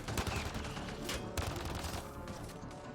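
Grenades and concussive shots go off in a sci-fi shooter video game played as a no-gun engineer, a dense run of sharp blasts and crackling bursts layered close together, loud and continuous.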